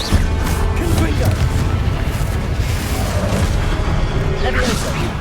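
Repeated Confringo blasting-spell explosions from Hogwarts Legacy, a dense, continuous roar of booming blasts and crackling debris with spell effects, loud and sustained throughout.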